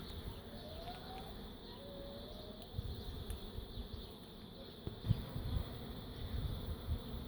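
Honey bees buzz steadily inside an open hive during a frame inspection, a dense, continuous hum with occasional brief handling knocks and faint background sounds.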